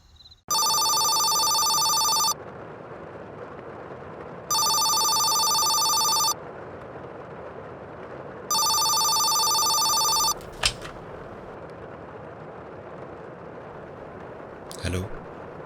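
A telephone rings with an incoming call, three long electronic ring bursts separated by pauses over a quiet room, followed by a couple of faint knocks or rustles near the end.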